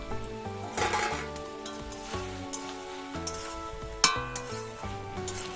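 A spatula stirs chicken pieces and fried potatoes in a pan, with intermittent scraping and light clinks of metal over a steady background of musical tones.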